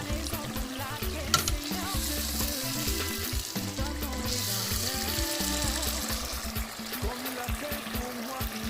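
Vegetables frying in a pan for poulet DG, a chicken, plantain and tomato dish, with a steady close sizzle and occasional stirring throughout, no talk.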